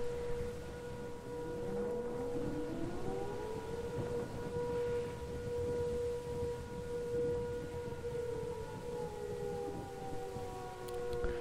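Several wailing civil defense sirens in a Minecraft tornado mod rise and fall together, long overlapping tones sweeping up and down steadily, fairly loud and sustained with no voices.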